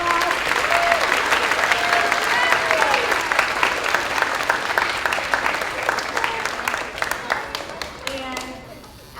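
Big round of applause from a warm evening crowd at a fifth grade chorus concert, dense clapping that holds steady then thins out and fades, with voices talking over the tail end.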